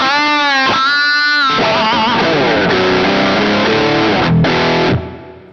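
An electric guitar runs through the Angry Charlie side of a JHS Sweet Tea V2 overdrive pedal with presence raised, playing loud distorted chords and a short riff before a ringing chord fades out.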